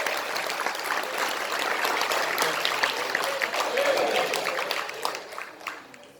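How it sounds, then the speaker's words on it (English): Steady applause from a crowd fills the whole stretch, dense and even, fading slightly toward the end. "clap your hand"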